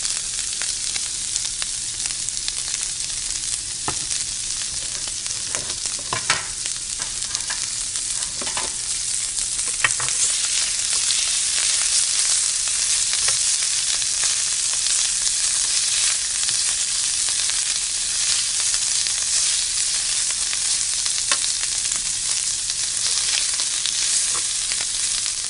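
Oil sizzles and fries steadily in a pan while cooking Haitian-style fajitas, a dense continuous hiss with occasional pops and crackles, close and fairly loud, with no talking.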